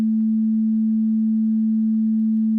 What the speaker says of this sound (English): This wave here is probably the purest wave. It's called the sine wave. A sine wave sounds like this.